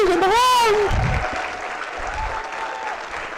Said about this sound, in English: give the ambassador a round of applause